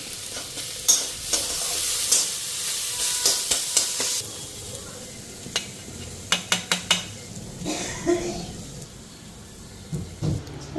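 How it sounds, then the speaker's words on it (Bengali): Oil crackles and sizzles in a wok as it heats to fry fish rubbed with salt and turmeric, with occasional sharp clinks and scrapes of a utensil against metal. "কড়াইতে তেল দিয়ে দিলাম মাছটা আমার এখন লবণ হলুদ মাইখা মাছটা ফ্রাই করে আনি"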